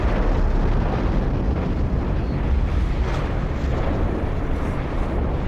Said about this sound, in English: a nuclear explosion.